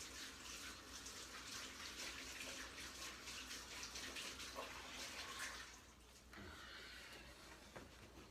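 Greasy hands being washed under a running tap, a steady broadband rush of water that continues throughout, briefly dropping then resuming near the end; no talking.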